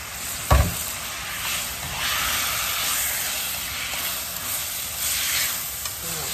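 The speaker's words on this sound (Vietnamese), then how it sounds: "Dầu nóng Lan để vô Lan xào." Pork ribs stir-fried in hot oil in a pan, a steady loud sizzle and hiss throughout, with a sharp clank of a utensil near the start and scraping stirs.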